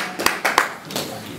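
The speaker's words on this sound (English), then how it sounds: "Let's applaud." Scattered hand claps from an audience in a Kennedy Center gospel event hall, a few sharp separate claps rather than full applause, fading out quickly.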